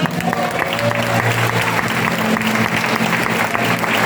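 Steady applause from a church congregation during a sermon, dense and continuous for a few seconds with a low murmur beneath.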